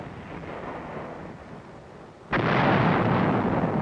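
Artillery fire in Korea in 1951: a low rumbling background is suddenly broken by one loud, heavy blast that keeps roaring steadily to the end.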